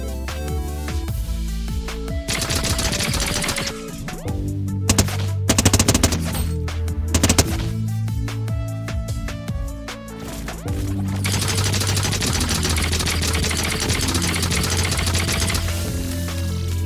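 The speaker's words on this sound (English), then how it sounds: "Next up we have scrapped weapon IDs for the Kong and Kodo's ray gun" Rapid bursts of futuristic ray gun fire from the scrapped Kong and Kodo's ray gun in Fortnite, loud and continuous, with heavy rattling volleys over game music and no talk.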